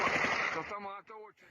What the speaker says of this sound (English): gunfire as police officers try to bring it down.